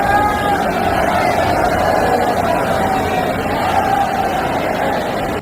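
A dense crowd packed at Banke Bihari temple in Vrindavan, a loud steady babble of many voices mixed into one continuous roar that holds level throughout.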